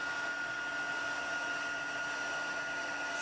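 A heat embossing tool blows hot air to melt embossing powder during a stamping craft project, giving a steady, even whooshing roar that runs unbroken throughout, close and alone.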